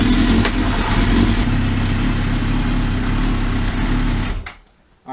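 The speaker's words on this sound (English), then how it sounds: "I let the bike run a little bit, let the oil get a little loose." A motorcycle engine idles steadily while warming its oil ahead of an oil change, a constant low rumble held near and loud for several seconds before it cuts out abruptly near the end.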